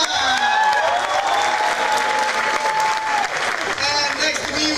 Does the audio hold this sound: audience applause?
yes